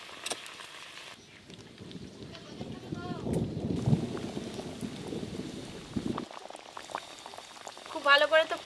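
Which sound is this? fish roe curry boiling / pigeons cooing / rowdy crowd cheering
fish roe curry boiling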